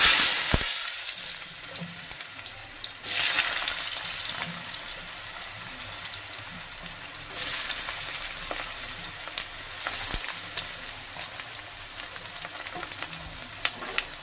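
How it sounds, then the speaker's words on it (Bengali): Cut potatoes dropped into hot oil in a kadai for a bitter gourd and potato curry sizzle and crackle steadily up close, with a louder surge of frying after each addition and no talking. "এখন আমি তেলের মধ্যে দিয়ে দেব কেটে রাখা আলু।"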